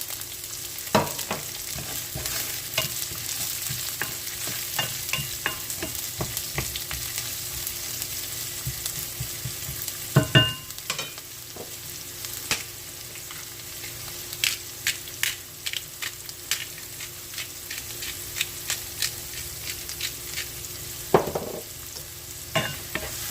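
Garlic and onion sizzle steadily in a hot pan over a fairly high flame, a dense continuous frying hiss broken by scattered crackles, pops and spatula scrapes, with no talking.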